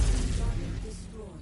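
Heavy cannon fire from a mech in MechWarrior 5 co-op, a dense booming burst with rumbling low end that fades slightly over a second and a half, with voices faintly present.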